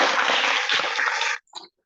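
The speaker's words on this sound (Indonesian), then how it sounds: "Tepuk tangan lagi." A classroom of students claps together in a dense, steady burst of applause lasting over a second, then cuts off, followed by a brief faint rustle.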